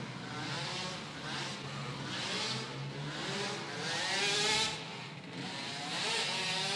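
Youth ATV engines rev and whine at a barn racetrack during a race, rising and falling in pitch as the machines pass at a moderate distance, fairly faint and steady.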